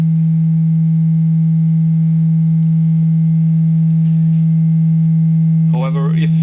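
A DIY synthesizer holds a pure triangle waveform, a steady, loud, hollow tone with no variation, until a short chirping sweep enters near the end.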